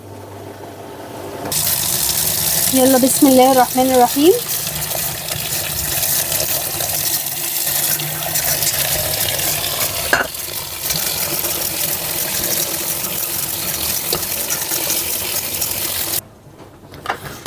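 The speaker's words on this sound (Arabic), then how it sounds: "هبدأ ان انا اصفيها واكب عليها مية ساقعة." Boiled potatoes are drained and doused with cold water, giving a steady loud rush and splash of running water that lasts throughout. A short spoken phrase comes at the start, and the sound cuts off abruptly near the end.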